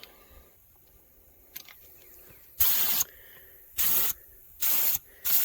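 A spray gun painting the rocker panels of a Ford F-150: four loud, close bursts of hissing spray, each about a third to half a second long, separated by short quiet gaps.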